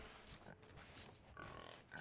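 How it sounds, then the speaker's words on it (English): Faint pig grunts from a video game set on a large island, a few short, rough snorts spread across a quiet two seconds with no talk. "Pigs have been confirmed."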